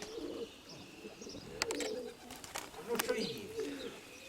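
Pigeons coo softly in repeated low calls, with a few sharp chirps on top and faint background noise throughout.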